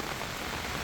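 Heavy, steady rain pours down beside a river pool deep in the Nilambur forest, a dense, continuous hiss filling the whole stretch with no voices.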